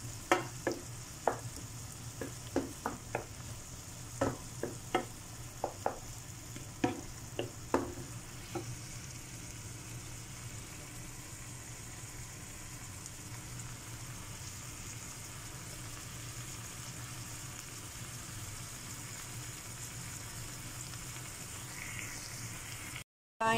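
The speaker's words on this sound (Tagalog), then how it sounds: "Guys, nalagay ko na, hinalo ko na yung sardinas. I-mix natin." Canned sardines sizzle with cooked tomatoes in a frying pan for sardine spaghetti, opening with a run of sharp utensil clinks from stirring, then a steady close-up frying hiss with no talking.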